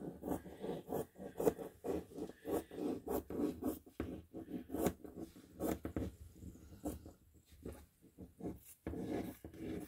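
Scissors trimming excess fabric while a gown is being constructed, a close series of crisp snips and rustling cloth in an irregular rhythm with no talking.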